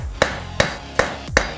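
A hammer strikes a Damascus steel horseshoe with punched nail holes four times at a steady pace, each ringing metallic blow standing clear and close.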